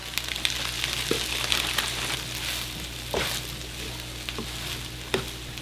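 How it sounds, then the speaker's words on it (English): Peas go into shrimp fried rice in a hot pan, with a steady crackling sizzle and scattered sharp stirring taps at moderate volume. "I'm gonna go in with some peas now."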